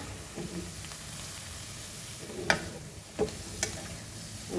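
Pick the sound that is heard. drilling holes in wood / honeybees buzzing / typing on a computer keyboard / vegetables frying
vegetables frying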